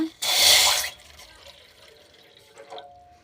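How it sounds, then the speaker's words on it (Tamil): Water is poured into a drinking glass in a short splashy burst lasting under a second, followed by faint trickling and quiet drips. "இருங்க தண்ணி ஊற்றிடுறேன் ஒரு கிளாஸ் தண்ணி எடுத்துக்கோங்க"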